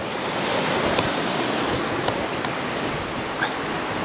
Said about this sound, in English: Just gotta watch the waves, huh?